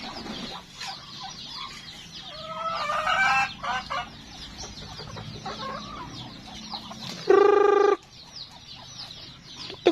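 Bantam chickens cluck and chatter in a farmyard with goats kept nearby, then a rooster crows loudly and briefly near the end, standing out over the steady flock noise.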